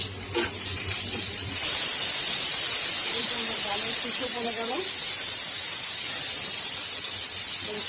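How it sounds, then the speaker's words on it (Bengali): A pressure cooker steaming dal lets out a loud, steady hiss that starts after a second or so and continues to the end, with a voice faintly heard partway through. "এদিকে আমি ডাল প্রেসারে বসিয়েছি এই শীষ দিবেই"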